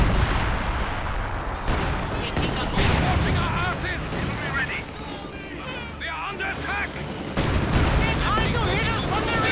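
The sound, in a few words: machine gun fire in a WWII strategy video game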